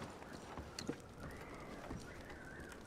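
Horse hooves clip-clop at a walking pace in the Red Dead Redemption 2 video game, faint and steady against a low outdoor background.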